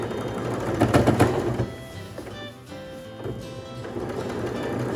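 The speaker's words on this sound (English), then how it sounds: "So here I'm coming to another seam, so I'm going to go over and then back stitch back across." A sewing machine runs a seam on a lined drawstring backpack, a close, continuous rapid whirring that is loudest at first, briefly eases while back-stitching, then picks up again.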